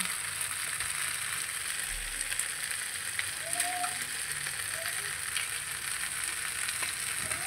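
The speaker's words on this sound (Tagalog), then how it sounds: "then ilalagay natin yung ating itlog." Eggs hitting a hot pan of tokwa baboy sisig, a steady close sizzle of frying with faint scraping and stirring through the rest.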